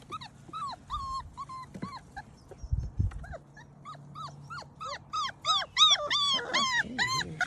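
Several young puppies whimper and yip close by in rapid high-pitched bursts, growing busier and louder toward the end, with a few soft thumps and rustles.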